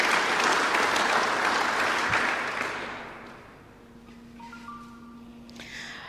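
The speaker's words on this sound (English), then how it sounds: "I think it's important that we actually give Awqaf a round of applause for taking up this initiative" An audience at a media launch for an Awqaf youth cricket tournament claps in a sustained burst of applause that fades out after about three seconds, leaving quiet room tone with faint tonal sounds.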